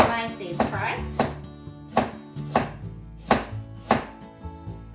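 A knife slices a peeled carrot into thin diagonal pieces on a cutting board, giving about seven crisp, close, fairly loud cutting knocks at a steady unhurried pace.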